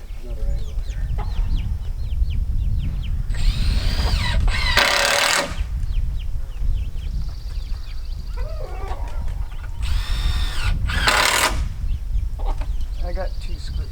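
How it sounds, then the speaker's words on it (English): A power drill drives screws into wood in two short whirring bursts, with clucking chickens and quiet talk around them. "let's get a couple screws in there to hold him"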